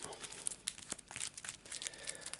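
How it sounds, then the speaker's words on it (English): Playing cards are shuffled quickly, a fast flurry of soft crisp riffling and flicking close up, quiet with no talking. "So another quick shuffle."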